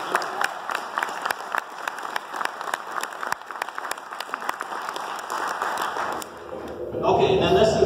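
Applause from an audience at a Corvette plant presentation, a steady patter of many hands clapping at moderate volume that swells into a fuller burst near the end, with voices mixed in.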